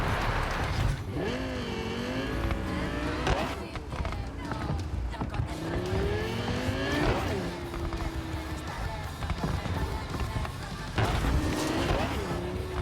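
Car driving in Cyberpunk 2077, with steady engine drone and several rising, squealing tire slides during sharp turns, running continuously beneath talk.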